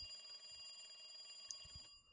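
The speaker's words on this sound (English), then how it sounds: "There was nothing but a ringtone." An electronic phone ringtone from the visual novel game Higurashi When They Cry, a quiet, steady tone that rings for about two seconds and then cuts off.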